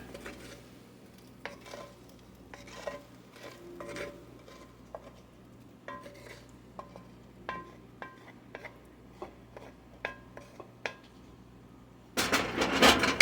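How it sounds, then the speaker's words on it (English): A spoon scrapes and taps through cooked hamburger meat stirred into a quiche mix in a bowl, with intermittent clinks and scrapes spaced irregularly, fairly close but quiet, ending in a louder burst of handling noise. "And I'm just going to stir this real quick because I don't want it to cook."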